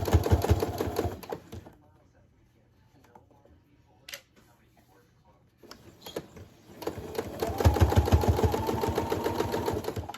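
A sewing machine stitching a fabric mask, whirring in fast rhythmic runs at the start and end with a quiet pause in between, close-up, while someone talks over it.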